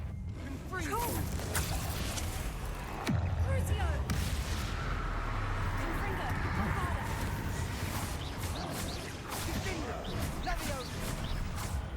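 Confringo blasting spells exploding in Hogwarts Legacy, a run of booming blasts and crackling impacts amid chaotic combat noise, with a voice shouting during the fight.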